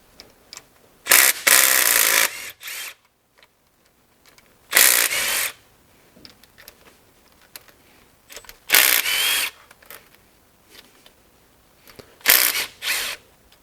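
Power tool zipping out four 13mm bolts from the oil pump on a Ram truck Hemi engine, four loud separate whirring bursts spaced a few seconds apart, with quiet mechanical handling between them.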